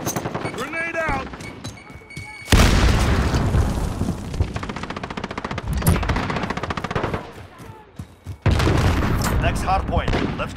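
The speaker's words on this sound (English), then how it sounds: "Grenade out." Grenade blast and heavy automatic gunfire in Call of Duty: Modern Warfare Hardpoint multiplayer, loud booming bursts and rapid rattling shots in close succession, with game voice lines mixed in.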